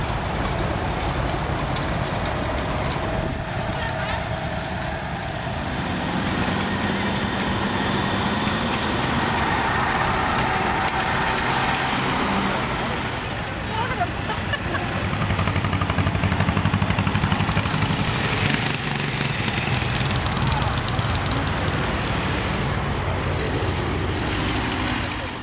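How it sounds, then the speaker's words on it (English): Tractors of all types and sizes rolling down Main Street in a parade, a long stretch of idling and chugging engines, steady and fairly near, with rising and falling rumbles as machines pass and faint voices in the background. "A showcase of tractors of all types and sizes came down Main Street last Saturday."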